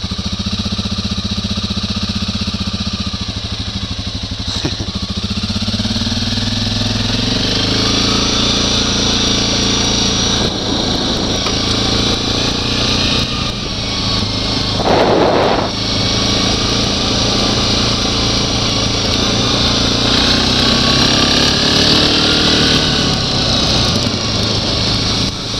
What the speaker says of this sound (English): This quad rides real smooth